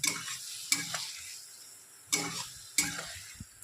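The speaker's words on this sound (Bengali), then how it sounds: "এটা একটুখানি এরকম কষা কষা কষিয়ে নেব" A pan of pointed gourd being stir-fried with a mustard, sesame and poppy seed paste: a spatula scrapes and clacks against the pan in a few sharp strokes over a soft, steady sizzle.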